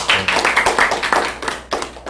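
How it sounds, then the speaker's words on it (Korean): Group clapping in a church gathering, a run of dense hand claps with a few rising bursts, steady and close, fading briefly near the end before picking up again. "박수가 필요합니다"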